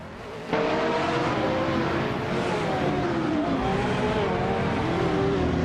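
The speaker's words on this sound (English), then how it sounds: "H2 Hova is driving a 2010 Opel Corsa S2000" Race cars roar through a video game race, including a 2010 Opel Corsa S2000, engines droning and shifting pitch continuously with no talk.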